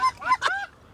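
Geese honk during a duck and goose hunt in a pit blind in Colorado: a quick burst of two or three loud, close honks lasting about a second.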